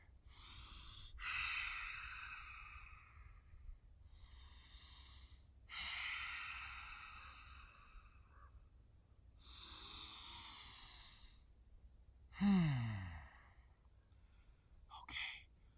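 Slow, deep breaths during a standing morning yoga session, a few separate inhales and exhales spaced several seconds apart, close and soft, with one sharper nasal exhale near the end.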